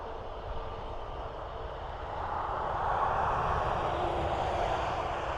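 An Aer Lingus airliner departing Dublin Airport for Alicante makes a steady jet engine roar that swells gradually louder midway and then holds, heard from a distance.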